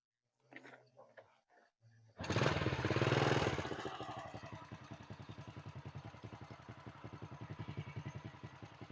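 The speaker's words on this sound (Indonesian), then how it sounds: "hidupin mas ya motornya" An old Honda Supra X motorcycle engine is started after a few faint clicks and taps, revs briefly, then settles into a steady, close, rapidly pulsing idle.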